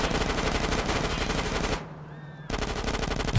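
Sustained automatic gunfire from the video game GTA San Andreas, rattling loud and continuous for nearly two seconds, breaking off briefly, then resuming in another dense burst.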